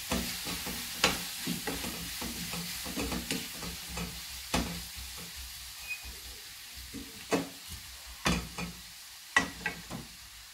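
Pizza topping with herbes de Provence is stirred in a hot pan, a soft steady sizzle under repeated spoon scrapes and light knocks spread across the whole stretch, with no talk.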